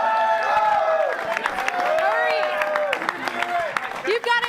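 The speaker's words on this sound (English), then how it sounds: "a rowdy ROTC bunch joining us tonight, cheering these guys eating their s'mores on" Rowdy ROTC group cheering on contestants eating s'mores at a campus sports show event, loud overlapping shouts and yells with scattered claps, sustained and close, with voices rising and falling in excited bursts.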